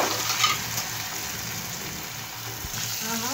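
Beaten egg for a green masala omelette sizzles in hot oil with a steady, close, even hiss that barely changes over a few seconds, with no talking.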